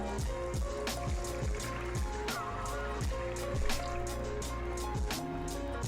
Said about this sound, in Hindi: तो पानी में यहाँ पे नाप करके रखा हुआ है, ये इसमें डाल दूंगी